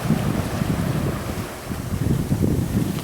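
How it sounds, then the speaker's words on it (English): A sailboat runs downwind under spinnaker toward San Juan on a sunny morning, with steady rushing wind buffeting the microphone and a low wash of water along the hull, continuous and fairly loud with no voices. "But we're running downwind, headed to San Juan under spinnaker."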